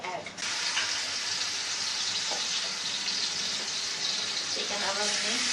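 Chicken pieces drop into two tablespoons of hot oil and set off a steady, bright sizzle. It starts suddenly and keeps going at an even level, with a few faint utensil clinks and a voice talking over it.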